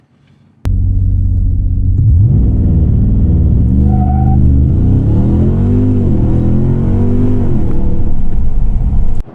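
A 2021 Ram 1500 TRX pickup truck engine revs hard and accelerates at full throttle, rising pitch dropping briefly at gear shifts, loud and close, with no talking.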